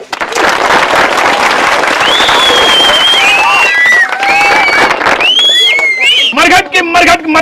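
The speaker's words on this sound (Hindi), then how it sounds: "इसी बात पर बजाओ ताली" A live comedy show audience claps and cheers in a loud, sustained burst, with whoops and shouting voices rising above the clapping before it thins into scattered claps near the end.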